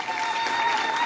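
An audience clapping for a dignitary at a public gathering, a steady wash of applause at moderate volume, with no speech over it.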